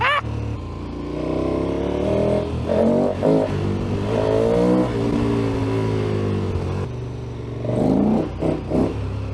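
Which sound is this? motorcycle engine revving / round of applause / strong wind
motorcycle engine revving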